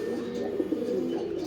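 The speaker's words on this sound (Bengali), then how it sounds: "তাল কবুতর আছে, এটা গতকালকে একাই আসছে" A pigeon in a home loft of mixed fancy breeds coos nearby in a continuous low, rolling murmur, moderately loud and unbroken, with no speech over it.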